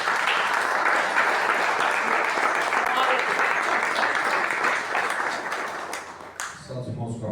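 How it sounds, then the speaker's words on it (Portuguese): Sustained applause from a church congregation at a family worship service, dense steady clapping filling the room for about six seconds before fading, with voices starting to speak as it dies away. "E as palmas, louvo o Senhor."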